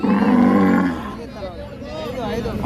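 A cow at a busy cattle market lets out a loud, drawn-out low moo nearby, followed by softer murmuring voices and faint crowd noise in the background.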